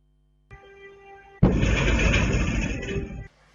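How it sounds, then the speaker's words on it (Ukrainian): A loud, sudden boom from air defense fire over Dnipro bursts in over a low droning hum and rumbles on for nearly two seconds before cutting off, like a distant explosion at night. "Ось такий вибух могли чути дніпряни вчора ввечері. Це працювала наша ППО."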